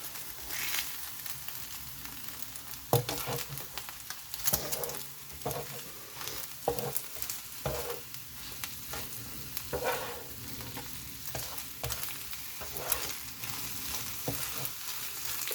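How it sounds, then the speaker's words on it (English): Hamburger patties sizzle and fry on a griddle, a continuous soft crackling hiss broken by sharp scraping and stirring clicks from a spatula, fairly quiet and close with no talk. "Alright, I'm going to take the hamburger patties off now."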